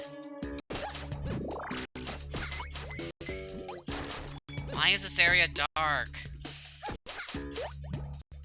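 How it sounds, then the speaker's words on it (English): Water drips in a dark area of the video game Shantae: Risky's Revenge. Repeated bright plops recur amid game music and effects, while a person talks over them. "I guess the drips kind of show you where things are right now."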